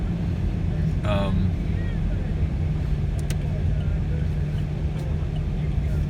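A car cruising on back roads on the outskirts of Old Town Scottsdale, heard from inside as a steady low road and engine rumble with wind noise throughout, no speech.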